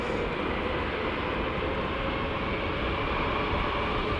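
An Emirates jet with Trent 800 engines approaches London Heathrow, a steady, loud broadband roar that holds evenly throughout with no break and no voices.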